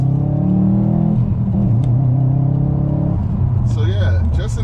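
A 2021 Subaru WRX STI in a stage 1 tune pulls hard from a standstill in first gear, its engine note climbing steadily and loudly close by, then falling back as the revs drop, with a voice talking over it.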